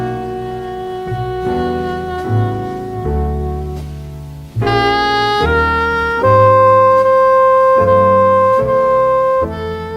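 Jazz chord progression, shifted around in minor-third steps, played as slow sustained keyboard chords that change every second or so and grow fuller halfway through, loud with no talking.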